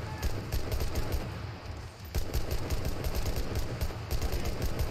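Steady automatic rifle fire in the World War II shooter Enlisted during a zombie survival mode, a continuous rhythmic rattle of shots at moderate loudness with brief dips, no speech over it.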